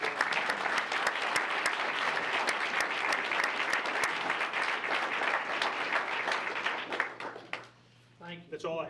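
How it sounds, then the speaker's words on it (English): A room at a board meeting breaks into sustained applause, loud and dense, with many hands clapping at once. It fades out near the end as a voice begins speaking. "Can we get a round of applause for that?"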